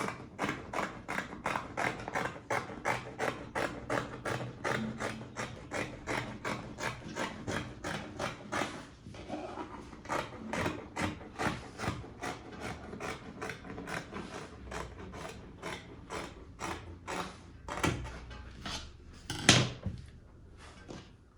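Fabric being cut out for a wrap dress, heard as a long run of rapid, regular scissor snips close up, with a brief pause and a few louder handling knocks near the end.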